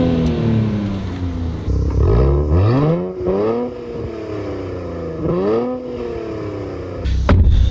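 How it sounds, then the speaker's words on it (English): A Nissan Z engine free revs while stationary, loud and close, with repeated rising and falling sweeps over a steady idle rumble. "we'll do some free revving"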